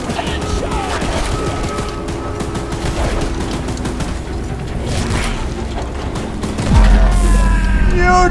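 A mounted gun fires steadily in a video game train battle, a dense continuous rattle of shots layered with mechanical clatter, rising into a louder burst near the end.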